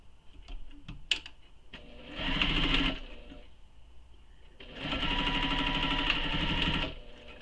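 A sewing machine stitches along a fabric edge in two steady bursts, each roughly two seconds long, with a quiet gap between them that holds faint handling clicks.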